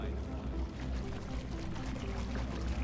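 Water pours steadily in the puzzle video game Portal Stories: Mel, a dense, continuous rushing splash that fills the whole moment at an even, moderate loudness with no voices over it.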